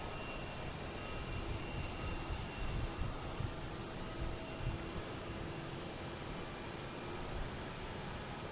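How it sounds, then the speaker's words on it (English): A Delta Boeing 757 jet, flight 437, approaching to land at Boston Logan near the harbor, its engine roar a steady, broadband rumble held at a moderate distance for the whole stretch with no voices. "we have a Delta coming in, 757, flight 437"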